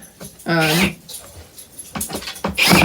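A small dog whimpers and whines in short high-pitched bursts, close by, with faint handling noises and a voice nearby in a kitchen setting.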